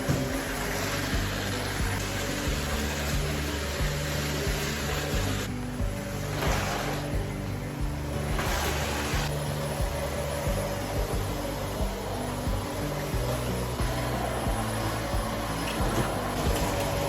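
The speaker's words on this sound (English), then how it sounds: "So I set that up and began to vacuum afterwards." Household vacuum cleaner running steadily throughout a room cleanup, a continuous broadband whir with brief dips in pitch as it moves, fairly close and alone with no talking.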